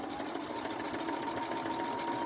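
A sewing machine stitches a quilt block for a star pattern, running in one close, steady whir from start to finish with no pauses and no voices.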